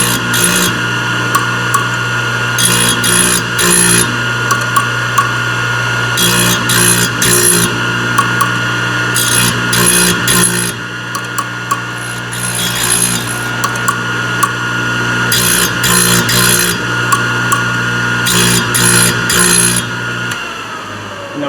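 A Thorvie AV-40 grinder motor runs steadily while carbide saw blade teeth are sharpened, a loud continuous whine broken by repeated bursts of harsh grinding as each tooth is touched, in regular groups across the cut.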